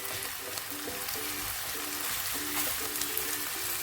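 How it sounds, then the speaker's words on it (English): Sausages frying in a pan for a stew give a steady, even sizzle with a dense broadband crackle, close and constant, while a faint tonal hum runs underneath and no one speaks. "Let it fry until it starts getting golden."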